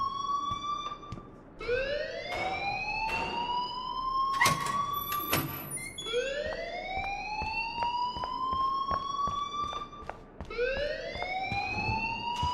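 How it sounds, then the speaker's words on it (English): Alarm in the Life is Strange video game, a loud repeating siren-like tone that sweeps upward again and again across the clip, with a few sharp clicks mixed in and no talk. "please turn off that alarm since that's your job"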